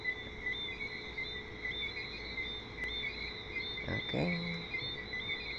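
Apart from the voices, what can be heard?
crickets chirping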